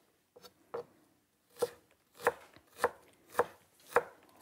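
A series of sharp knife chops cutting ginger into strips on a board, about seven strokes at a steady rhythm, close and distinct against near silence.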